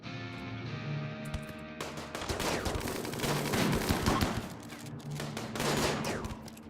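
Colonists in RimWorld firing guns, a dense steady fusillade of rapid gunshots over several seconds, moderately loud and continuous with no voices over it.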